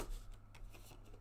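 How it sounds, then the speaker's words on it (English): Discard pile of game cards from a space-themed board game getting a brief shuffle, a quick soft riffling rustle up close, faint and alone. "we shuffle the discard pile to form our next deck"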